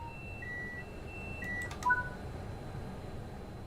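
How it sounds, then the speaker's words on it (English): A tilt authorization and speed supervision alarm in the Train Sim World 5 cab sounds as a series of short electronic beeps and tones at varying pitches, with a brief cluster of clicks partway through, against a low steady hum. "This is the tilt authorization and speed supervision alarm and will need to be acknowledged."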